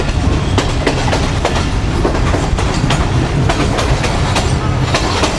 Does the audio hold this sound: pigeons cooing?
no